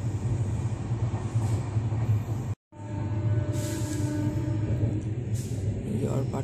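A train on the Pune to Kolkata route rumbles along, heard from inside the coach as a loud, continuous low roar with rattling wheel noise. The roar breaks off briefly, then carries on steadily.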